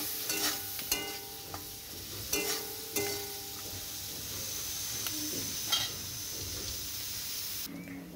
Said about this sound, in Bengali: লবণ দেওয়ার পর আমি একটু নাড়াচাড়া করে নিচ্ছি